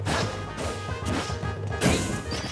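Heavy side smash attacks land in a Super Smash Bros. amiibo match, with repeated crashing hits and whooshes over busy game noise.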